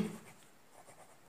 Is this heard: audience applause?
no